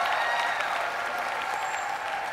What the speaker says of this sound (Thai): ต้องปรบมือให้ดัง ๆ